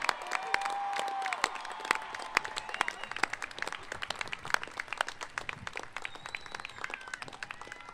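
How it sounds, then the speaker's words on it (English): A high school graduation audience applauds honor students at Vista Murrieta, a moderate, steady patter of many hands clapping across the hall with a few whistles rising over it, fairly distant and even throughout. "I'll ask them to stand up so we can applaud them for their achievements"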